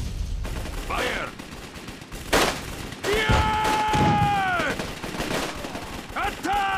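Gunfire from the World War II strategy game Codename Panzers: Phase Two, with bursts of rapid shots and sharp bangs mixed with shouted unit voice lines and whistling effects, loud and close.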